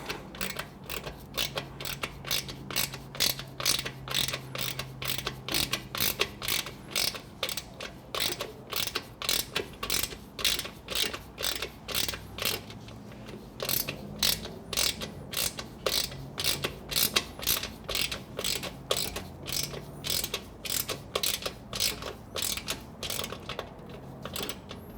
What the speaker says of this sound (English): 10mm socket.